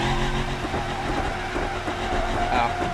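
Steady car engine drone from a Volvo driving simulator game, just repaired and running more quietly, a continuous close rumble with faint rattling and no pauses.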